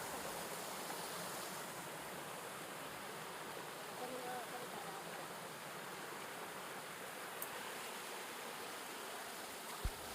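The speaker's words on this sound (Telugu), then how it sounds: "చూడడానికి అయితే చాలా అందంగా ఉందన్నమాట ఈ వాటర్ ఫాల్" A small waterfall at Gurrala Thota makes a soft, even rushing wash heard from some distance, faint and steady throughout, with low voices occasionally beneath it.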